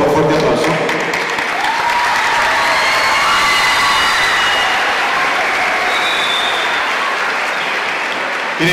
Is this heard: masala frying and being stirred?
no